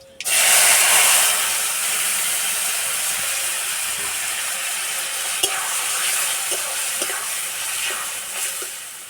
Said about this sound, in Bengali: এবার টমেটো দিয়ে দেব